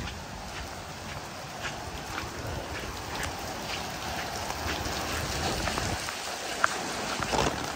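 Steady rain patters all around at a beach resort, a dense hiss of drops with occasional sharper taps, moderately close and continuous with no talking.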